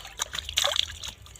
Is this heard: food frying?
no